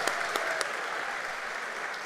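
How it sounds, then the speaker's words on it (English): Audience applause at a university welcome event for a new class in Madrid, a steady wash of clapping from a large crowd with a few sharper claps standing out, continuous and fairly loud throughout. "Another applause for Javier"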